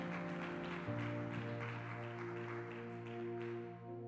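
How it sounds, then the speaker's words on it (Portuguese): A church congregation applauds during a Friday faith service, a steady wash of clapping running under sustained keyboard or organ chords throughout. "Se você crê nisso, aplauda o Senhor."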